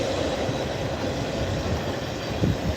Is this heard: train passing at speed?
yes